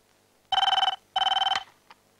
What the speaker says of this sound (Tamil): ஃபோன் பண்ணி அடிக்குது பாருங்க